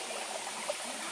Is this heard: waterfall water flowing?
yes